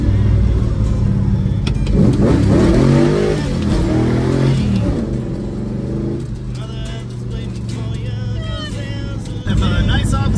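A car engine revving and accelerating hard while being driven fast, loud and close. Music or voices play over the first part, and the engine roar carries on throughout.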